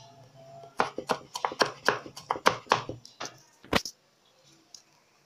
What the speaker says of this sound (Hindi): ये हम इसको लहसुन को इस तरीके से ही बारीक बारीक काट लेंगे